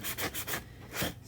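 Hand sanding with a medium-grit sanding block: quick back-and-forth rasping strokes in a steady rhythm, close and moderately loud, with a short pause midway before the rubbing resumes.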